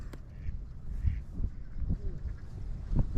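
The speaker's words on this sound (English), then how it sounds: "3 mallards right there." Mallard ducks quack in a soft, scattered series of short calls at moderate distance, set against steady low wind rumble in an outdoor hunting spot during a light snowstorm.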